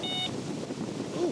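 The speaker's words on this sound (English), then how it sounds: "Ooh, the bleep." Carp fishing bite alarm gives a short electronic bleep at the start, a steady high tone over windy outdoor background noise, followed by a brief faint chirp near the end.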